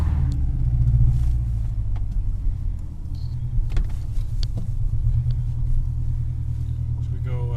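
Subaru Legacy with a swapped-in 5-speed manual driving along, a loud low engine and road rumble throughout from inside the cabin, with faint voices in the background.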